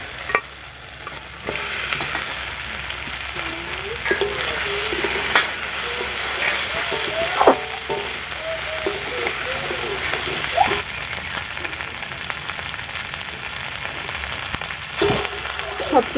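Fried magur fish and fried potatoes are sautéed in spice paste with ground mustard and chilli powder, a constant loud sizzling hiss punctuated by regular scraping strokes of a spatula against the pan.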